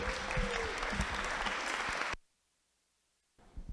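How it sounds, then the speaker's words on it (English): Wedding guests applaud after a toast, loud dense clapping and cheering that cuts off abruptly into near silence before sound briefly returns at the end. "Big round of applause, everybody."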